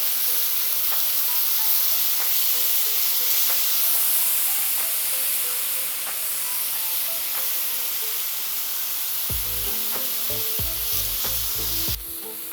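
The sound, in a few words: meat sizzling on a Steelmade flat top griddle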